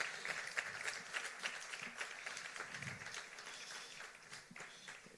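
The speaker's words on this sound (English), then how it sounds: "Let's give him another round of applause" A round of applause from a conference audience at a music-industry intellectual property event, moderately distant clapping sustained for several seconds before fading slightly.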